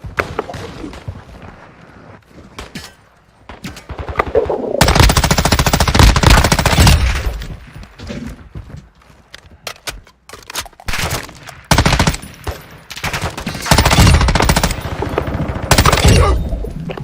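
Loud bursts of automatic machine gun fire in the Warzone 2.0 shooter game, repeated rapid volleys with short gaps between them, close and dominant.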